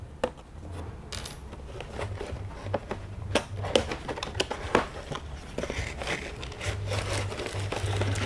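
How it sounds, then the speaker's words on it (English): A blade slicing open the cardboard box of a Trumpeter 1/200 Bismarck battleship model kit, close-up scratching, tapping and crinkling of packaging in irregular bursts over a faint low hum. "So let's just cut this open."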